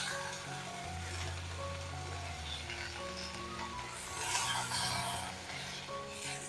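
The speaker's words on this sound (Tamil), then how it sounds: "புதினா நல்லா வதங்கிடுது." Fresh mint leaves, a big handful with chillies, cook in a pan for a South Indian lunch dish, giving a steady soft sizzle with stirring and scraping throughout, slightly louder midway, with no talk.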